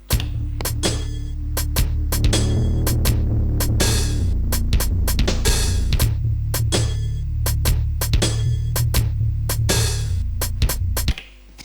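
A deep sub bass synth sequenced on an Elektron Octatrack with filter distortion pulses in a steady rhythm, loud and throbbing, with sharp clicky hits marking each step until it cuts off at the end.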